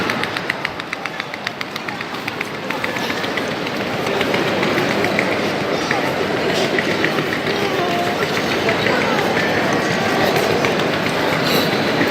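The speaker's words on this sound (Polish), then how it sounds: "Przed nami dworzec główny, termini PKP. Super pociągi do Florencji." Trains at Roma Termini, the main railway station in Rome, with steady rolling rail noise and clattering wheels under a busy station ambience; a voice speaks over the first part.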